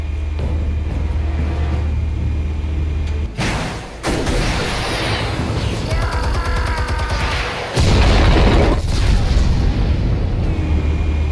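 Explosives detonating in Batman: The Telltale Series: loud booming blasts break in after a low rumble, with another heavy burst later. Crackling debris and a sustained roar hang over the scene.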